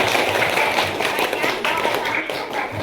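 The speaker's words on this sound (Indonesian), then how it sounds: "Oke, boleh kasih tepuk tangannya buat Karen." Classroom of students clapping for a classmate named Karen, a dense patter of hand claps running steadily throughout, fairly close and moderately loud.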